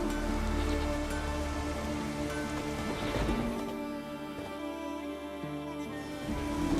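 Rain in the Witcher 3 video game, a steady hiss of falling drops on surfaces with faint background ambience, moderately loud and even throughout, with no talking.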